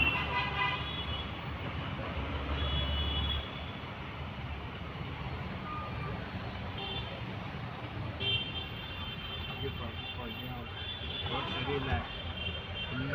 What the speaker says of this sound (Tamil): பாருங்க எவ்வளோ டிராஃபிக்.